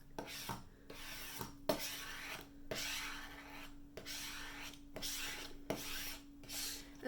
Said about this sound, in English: put some parchment paper over the sticky vinyl, run over it again with that, and then gently scrape